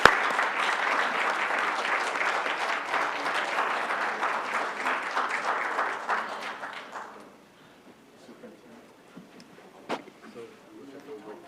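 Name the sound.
round of applause at a board meeting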